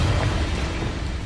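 A Confringo fire spell goes off in Hogwarts Legacy, a brief loud burst of roaring, rumbling blast noise that fills the whole moment.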